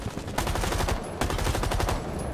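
Rapid automatic gunfire from Zofia's weapon in Rainbow Six Siege, with dense, loud bursts of shots that pause briefly and then resume.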